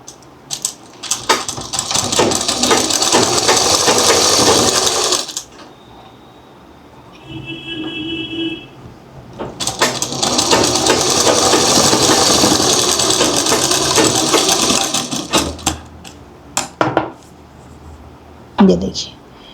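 A sewing machine runs in two long bursts of rapid mechanical stitching along a seam, loud and close, separated by a short pause with a faint beep. Brief handling noises follow, and a voice talks at times.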